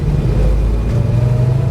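A 1973 Plymouth Duster rumbles around a roundabout, with a loud, steady low engine drone and road noise heard from inside the car.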